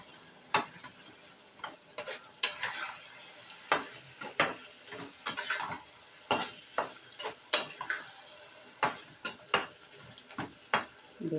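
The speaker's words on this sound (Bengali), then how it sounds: "বাগদা চিংড়িগুলো এর ভেতরে দিয়ে দেব। দিয়ে আবার একটু নেড়ে নেব।" Fried tiger prawns stirred into yogurt curry in a pan: a rhythmic series of sharp spoon scrapes and knocks against the pan over a soft sizzle, close and fairly loud.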